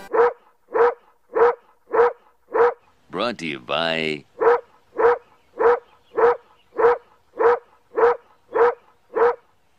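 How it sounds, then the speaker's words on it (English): Bark-like synthesized tone in a TurboGrafx-16 shooter game music track, sounding as a steady run of evenly spaced sharp barks, with a brief spoken interjection midway. "It sounds like a dog barking."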